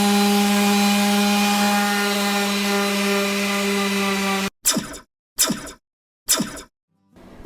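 A power saw cuts through plywood and molding, whining steadily at close range for several seconds, then stops; three short separate cutting bursts follow with silent gaps between them.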